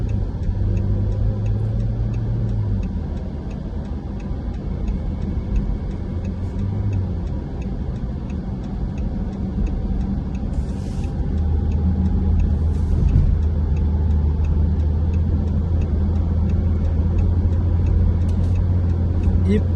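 A car speeding along a highway in Dammam, Saudi Arabia, heard from inside as a steady loud road roar and engine hum with low rumble throughout, someone talking over it.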